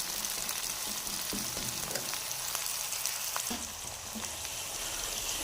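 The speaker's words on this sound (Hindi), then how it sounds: "तो ये डाल लेंगे, इसे हल्का सा फ्राई करेंगे, लाइट ब्राउन कलर आएगा।" Chopped chicken pieces fry lightly in a pan for chicken kadai, a dense even hiss of hot oil with a few faint stirring clicks, continuous and unbroken by speech.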